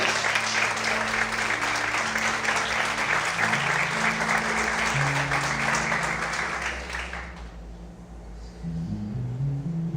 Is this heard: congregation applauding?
yes